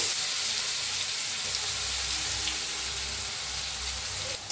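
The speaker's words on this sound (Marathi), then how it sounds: "तापलंय त्याच्यात टाकूया महुरी त्याच्यात टाकूया जिरं अर्धा चमचा" Steady, dense sizzling crackle of mustard seeds and cumin dropped into hot oil in a pan, loud and continuous with no pauses or voices.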